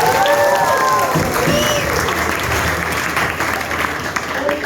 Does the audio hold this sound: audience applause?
yes